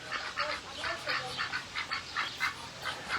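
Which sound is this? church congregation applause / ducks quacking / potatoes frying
ducks quacking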